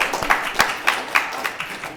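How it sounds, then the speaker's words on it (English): An audience applauds at a solar eclipse talk, with bursts of clapping and a few sharp, louder claps standing out in an uneven rhythm, close and fairly loud. "big hand of applause"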